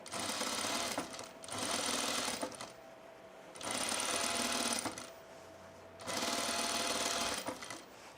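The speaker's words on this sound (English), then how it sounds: "I'm gonna sew the facing down" A sewing machine stitches down a hood facing on a sunblock top in three loud, steady motor-driven runs of rapid stitching, each lasting over a second, separated by short quiet pauses.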